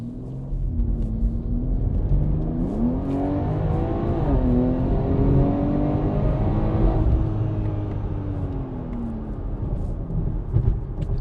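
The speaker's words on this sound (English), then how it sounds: "That was a closed valves pull." A BMW X3 M exhaust with a CTS midpipe and closed valves drones loudly as the engine pulls hard through the revs, pitch sweeping up and down under steady acceleration, fairly muffled and deep.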